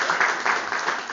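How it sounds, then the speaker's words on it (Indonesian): Short burst of applause from an audience at a seminar session, brief clustered clapping at moderate level, heard alone. "tepuk tangan sekali lagi"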